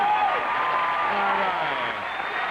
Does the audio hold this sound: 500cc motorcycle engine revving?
no